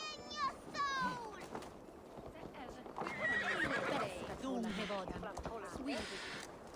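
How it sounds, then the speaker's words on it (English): A summoned horse in Assassin's Creed Valhalla gives a loud, clear whinny near the start, followed by hoof clatter and further horse snorts and neighs mixed with game voices and background effects. "I, the great summoner Asta, call to you, my noble steed skin Faxi"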